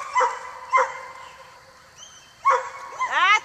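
During a herding training session, a herding dog gives several sharp, spaced barks, then breaks into a rising, whimpering whine at the end, heard fairly close.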